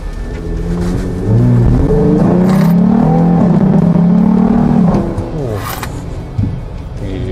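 A modified Jeep Gladiator six-cylinder with an aftermarket intake revs hard, its deep engine note climbing and holding loud and close for a few seconds before dropping back to a rumbling idle.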